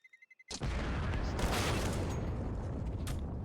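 A bomb explosion in Counter-Strike comes in as a sudden loud boom after a few quick beeps, then a dense, roaring rumble that keeps going through the rest of the clip.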